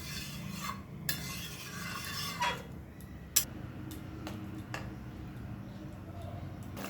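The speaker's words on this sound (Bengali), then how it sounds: "লবণটা দেওয়ার পর হালকা হাতে একটুখানি নাড়াচাড়া করে দিতে হবে।" A spoon stirs a thin snakehead fish curry in a pot after salt goes in, giving soft scraping with a few sharp clicks against the pot over a low, steady simmer.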